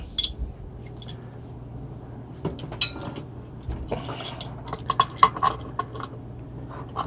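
A metal wrench clinks and taps against parts of a 26-inch mountain bike being fitted with an e-bike kit: scattered light metallic clicks and chinks, close and fairly quiet, with a few sharper knocks later on.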